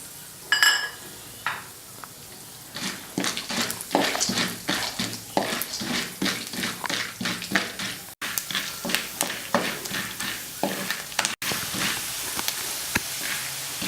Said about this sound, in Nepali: त्यसैगरी अब म भटमास फ्राई गर्छु।